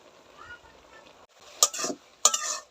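Green chilies and onion tossed into freshly picked cooking greens, with a couple of sharp scraping stirs and a short sizzle after a quiet stretch, close and moderately loud.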